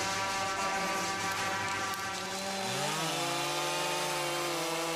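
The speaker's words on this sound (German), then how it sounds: "sägen die Männer die Baumenden ab und zerteilen die Stämme in gleich lange Stücke" A chainsaw cutting the ends off walnut tree trunks, its engine running loud and steady and then dropping in pitch as the chain bites into the wood, with no one talking.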